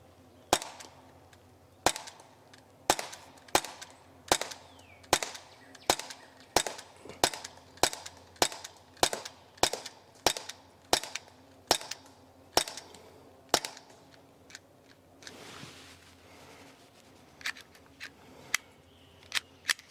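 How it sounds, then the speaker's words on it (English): Repeated BB pistol shots from a Sig P365 and S&W M&P 2.0 replica at a shooting line, sharp snappy cracks fired in a steady rhythm of roughly one per second, then a few sparser clicks near the end, with no talking. "then we'll head up to the line and start shooting"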